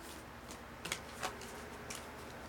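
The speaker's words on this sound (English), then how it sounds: "These cards are definitely hard to shuffle." Brief riffling bursts from a new deck of playing cards with stiff, unfamiliar card stock being shuffled, a few quick soft flutters against a steady background hiss.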